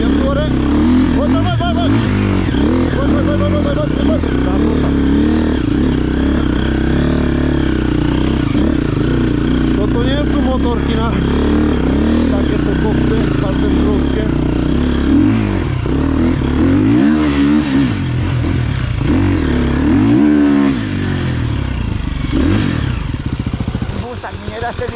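Motorcycle on a ride in Romania revving and accelerating uphill, a loud close engine with rising and falling pitch sweeps and some clatter, under a rider's speech.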